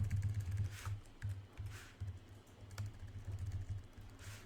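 Clicking keystrokes on a physically different computer keyboard, irregular bursts of typing at close range with short pauses between runs, over a low steady hum.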